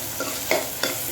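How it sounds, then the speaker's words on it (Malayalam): Tomato and onion are sautéed in a pan, with a soft continuous sizzle broken by two quick scraping stirs of a spoon, close by and without any voices. "ഇപ്പോൾ നമ്മൾ തക്കാളി ഉള്ളിയും സോട്ട് ചെയ്യാൻ വെച്ചത് ഏകദേശം ആയിട്ടുണ്ട്"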